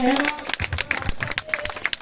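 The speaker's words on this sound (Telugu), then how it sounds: "అందరూ కూడా గట్టిగా చప్పట్లు కొట్టండి" Wedding guests clap together at a temple kalyanotsavam ceremony for Sri Lakshmi Narasimha Swamy, a brief patter of many hands mixed with chanting voices.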